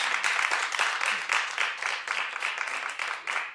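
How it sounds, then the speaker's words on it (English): Studio audience clapping on a daytime talk show, a dense, steady patter of many hands sustained throughout at moderate volume, with no clear voice over it. "No, clap like you mean it."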